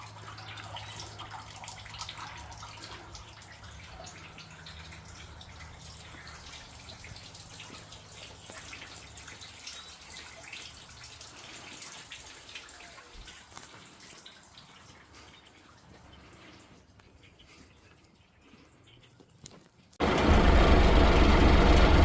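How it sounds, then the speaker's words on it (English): Steady rain drips and patters around a scrap-iron yard, a continuous wet wash with a low engine-like hum underneath at first, then a sudden louder burst of rain noise in the final seconds. "It is really raining now."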